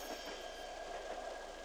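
Steady rumble of a moving train in a video game, with continuous broadband rail noise and a faint steady tone, constant in loudness with no voices.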